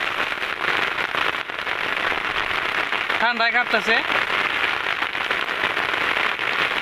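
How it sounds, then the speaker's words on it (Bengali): Steady rain patters densely on an umbrella close by throughout, while a person speaks briefly in the middle. "বৃষ্টিও কমতেছে না আজকে সারাদিন বৃষ্টি"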